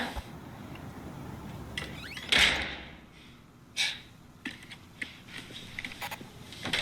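A door in a horror video game bangs once sharply, followed by a second thud and several fainter knocks and creaks against a quiet, dark ambience.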